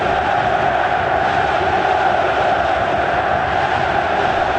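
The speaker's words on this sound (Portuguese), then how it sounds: "No momento que a torcida não segura mais o grito." Dense, steady roar of a large football crowd in a stadium during a Libertadores final between Corinthians and Boca Juniors, a sustained wall of massed voices holding a chant at constant loudness with no pauses.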